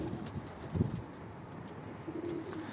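Pigeons kept on a loft coo softly in a low, throaty burst near the start and again toward the end, faint and fairly close in a quiet setting.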